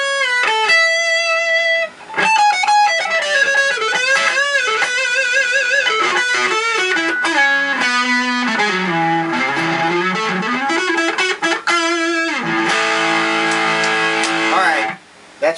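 Custom electric guitar with the neck pickups wired in parallel, played through a crunch distortion: sustained driven chords and melodic runs, loud and continuous with no talking.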